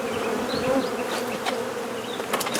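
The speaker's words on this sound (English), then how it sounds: "scooping handfuls of bees at a time" Honey bees from a swarm buzz in a thick, close drone, steady throughout, with brief louder passes and a few soft clicks of handling near the end.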